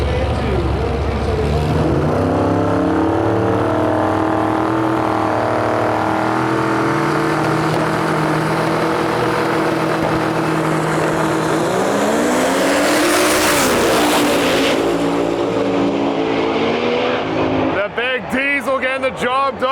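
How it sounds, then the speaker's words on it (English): A 1954 Chevy with twin turbos and a diesel Ram drag racing, loud engines roaring and climbing through the gears for most of the run, a surge near the end, then a burst of crowd or announcer noise, with voices talking over it. "I believe it's like a 54 Chevy twin turbo deal. And we got a diesel Ram in our lane."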